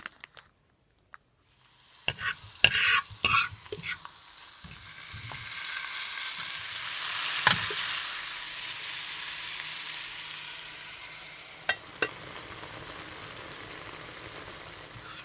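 Fresh thyme and garlic sautéing in butter for a shrimp and ramen dinner: a few clatters and taps of the pan, then a steady close sizzle that swells and fades, with a couple of sharp clicks.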